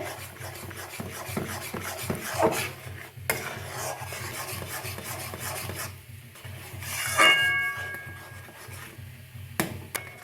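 A spoon stirs milk with cornflour and crushed cardamom in a pan, making repeated scraping and rubbing strokes against the metal at an uneven rhythm. The sound is close and moderately quiet, with a few sharp clinks and no talking.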